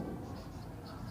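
Soft, brief scratching of writing as the next line of a physics equation is written out during a class lesson, faint and close with no talking.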